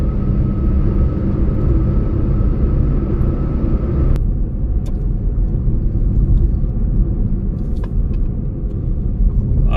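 Maruti Baleno automatic car cruising on an expressway at night, a steady loud cabin rumble of engine and road noise throughout, with a few faint clicks and no talking.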